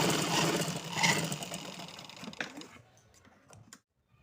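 A sewing machine runs steadily, stitching gum lace along the edge of a kurti slit, a dense continuous whir for nearly four seconds that breaks off near the end with a few soft clicks.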